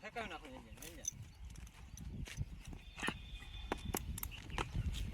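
Horse hooves clip-clop in a quick, uneven rhythm over steady outdoor noise, with a person's voice rising briefly at the start.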